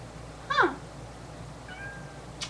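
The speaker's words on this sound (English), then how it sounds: "This is one of 3 of my fur babies. I have 3 kitty cats." Pet cat indoors giving one clear, fairly close meow, then a fainter drawn-out meow and a short chirp under a steady low background hum.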